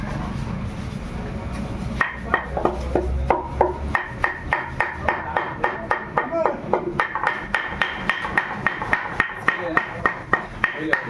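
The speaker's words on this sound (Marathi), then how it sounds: "हातोडा मारून एकदम पूर्णपणे फिक्स केलं जातं" Sharp, regular knocks of a hammer on the glued toe of a cricket bat, struck one after another at a steady rhythm, close by, with a few irregular hits at the start.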